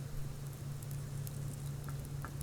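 Rain falling in the survival game Subsistence at dusk, a steady soft patter with a low constant hum beneath, continuous and even throughout.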